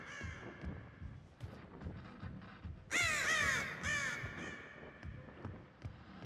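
Crows cawing in the horror video game Dead by Daylight, a few loud harsh caws bursting out midway over a steady game ambience with footsteps and rustling.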